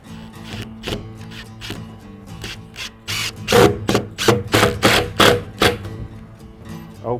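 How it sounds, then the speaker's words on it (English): Screws driven into a wooden sled from underneath, a run of sharp scraping, rasping bursts of screw threads biting wood, growing louder and more rhythmic midway, with no talking. "2 more larger screws go in from the bottom."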